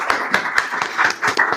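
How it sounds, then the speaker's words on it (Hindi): Studio audience on a quiz show clapping, a brief close burst of sharp individual claps in an uneven rhythm with no talk over it. "चलो कोई नहीं, एक बार खुश के लिए जोरदार तालियां।"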